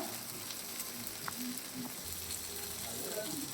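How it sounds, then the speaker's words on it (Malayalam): Coconut pieces drop into a tomato mixture frying in a pan, giving a steady, faint sizzle with a few soft clicks and scrapes from stirring. "തേങ്ങാക്കൊത്ത് ഇട്ട് കൊടുക്കുക"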